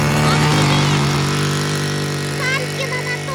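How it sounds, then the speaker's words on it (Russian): A motorized sled's engine runs steadily and loudly with a strong low drone, people talking over it throughout. "Санки на моторке."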